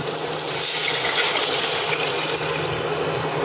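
First-press coconut milk poured into a pan over sautéed onion, ginger and garlic, a continuous close liquid pour running steadily throughout without a break.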